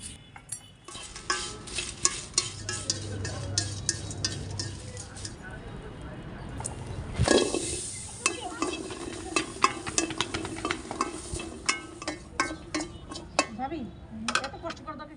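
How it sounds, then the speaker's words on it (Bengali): Dried chillies and garlic fry in a pan, giving a soft, close sizzle broken by stirring scrapes and occasional clinks of cookware. "শুকনো মরিচ আর রসুন ভাজা হয়ে গেছে"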